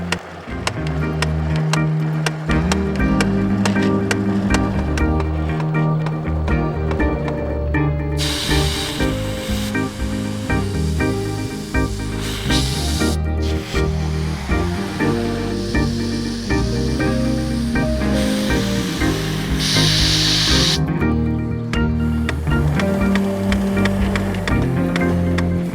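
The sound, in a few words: water spraying from a Fiskars Waterwheel XL garden hose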